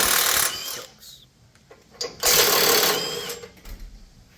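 A 15mm socket on a powered driver removes the recovery hooks from a Ford Raptor R, with two loud, close whirring bursts separated by a pause, then scattered metallic clatter and knocks.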